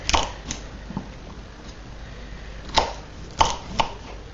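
Knife cutting carrots lengthways on a chopping board, a handful of sharp, irregular thunks spaced apart, close and clear against a quiet background.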